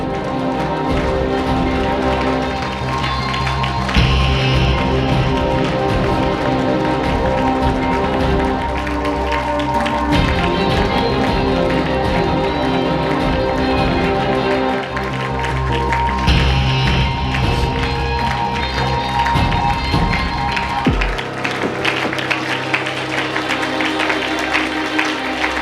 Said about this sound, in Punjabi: ਤਾੜੀ ਵਜਾ ਕੇ ਦੁਆ ਕਰੋ 1 ਮਿੰਟ ਦੇ ਲਈ